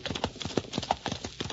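Horse hooves clip-clopping at a steady ridden pace, a regular rhythm of crisp close hoofbeats over about a second and a half.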